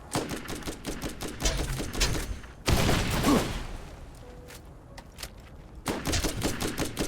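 Rapid gunfire rattles through a Borderlands firefight, dense bursts of sharp automatic shots with a louder blast in the middle, a brief lull, then another burst of fire near the end.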